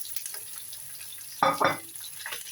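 Fish frying in a pan sizzles faintly, then two sharp bursts come as it is stirred, the scraping and hissing close and brief before settling back to a soft sizzle.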